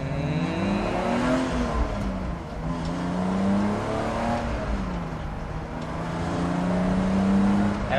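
BMW E46 330ci track car fitted with headers, heard from inside while driving, its engine droning and revving up and down in rising and falling sweeps, with a steady exhaust tone underneath.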